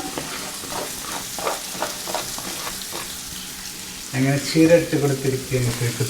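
Spinach with turmeric frying in a pan, a steady hiss and crackle that swells into louder sizzling as the leaves go in, with light scraping and stirring.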